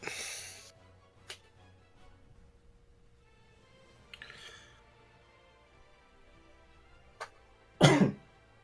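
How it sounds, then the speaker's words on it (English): A few scattered coughs and throat-clearing sounds, close to the microphone, with the loudest rough cough near the end amid quiet pauses. "you've got to stop coughing in the mic"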